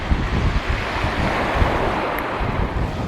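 Strong coastal wind gusting into the microphone as a dense, loud roar, with surf washing beneath it throughout, steady and continuous with no pauses.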